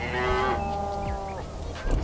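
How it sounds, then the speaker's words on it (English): Black Angus cattle on an active ranch give a long, drawn-out moo with a tonal, droning quality, followed by softer lowing, heard at moderate distance with no talk. "So there's still several hundred Black Angus cattle out here."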